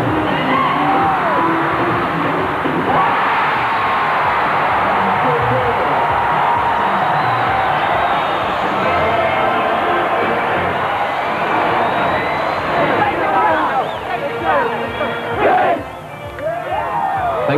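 A 1990 NBL basketball crowd erupts after a last-second win, a roaring wall of cheers, whoops and yells sustained loudly throughout, with clapping mixed into the din and a brief dip near the end.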